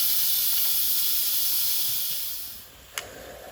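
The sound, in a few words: Instant Pot pressure release hissing steam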